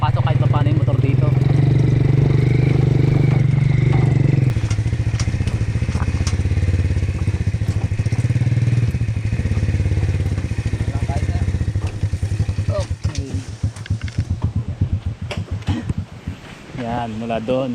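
A motorcycle engine rumbles loudly and steadily while riding, with wind noise, then the revving turns choppy and uneven toward the end.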